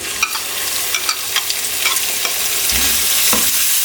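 Onions sizzle close up in hot oil with roasted spices while cooking chicken chana, a steady hiss broken by intermittent scraping stirs and soft clicks.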